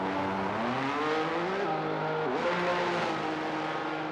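Formula 1 racing cars roar and pass in a video game race, one rival overtaking, with steady high-revving engine tones that shift pitch as cars go by, loud and continuous throughout.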